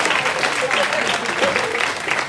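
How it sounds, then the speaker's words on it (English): Church congregation at a pastoral and church anniversary service clapping together, a steady moderately loud patter of many hands with faint voices mixed in. "Clap your hands and give the Lord praise."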